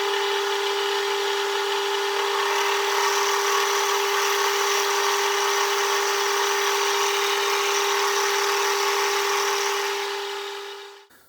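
A modified knurling tool takes a half-millimetre cut on metal stock, producing a steady, harsh scraping grind with a constant ringing tone that runs about eleven seconds and then stops.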